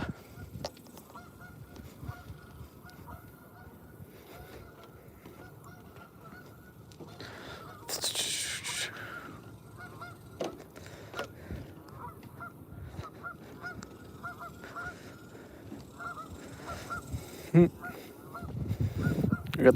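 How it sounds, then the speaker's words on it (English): Geese honk from behind a spot beside water during a live fishing outing, calls rising and scattered through the second half over steady outdoor background noise, with a louder burst near the end. "What you hear are geese, yes. The geese are behind us."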